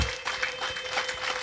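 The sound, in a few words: audience applause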